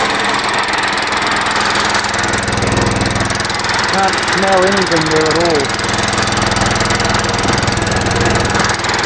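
A homemade engine runs on the Gas O Matix 9000, a wood-gas fuel setup, with a steady loud drone throughout and someone talking over it partway through.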